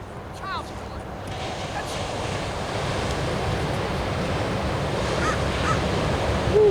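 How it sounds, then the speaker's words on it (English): Surf washes steadily onto a beach in front of a campsite, a broad continuous roar that grows slightly louder, with wind buffeting the microphone and a few faint bird calls. "Alright, so here we are, going along the beach."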